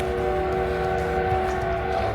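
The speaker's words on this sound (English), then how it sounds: "that's the whistle" A steady, sustained steam train whistle tone holds without a break, loud and close, over a low rumbling background, on the Cumbres and Toltec steam railroad.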